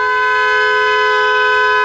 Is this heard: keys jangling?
no